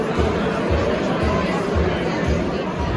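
Steady crowd chatter fills a large room at a housewares charity gala, a dense babble of many voices at a constant level with no single speaker standing out.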